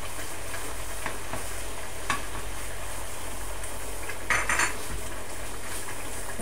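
Vegetables for a quinoa paella sizzle steadily in a hot pan while a utensil scrapes and stirs, with occasional metallic clinks against the pan and no voices.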